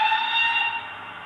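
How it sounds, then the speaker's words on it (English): A Hornby model steam locomotive, the Flying Scotsman, gives a steady, shrill steam whistle through a small speaker controlled by an HM6000 unit. The tone holds for about a second, then fades slightly. "Let's switch on the sound for the Steam loco."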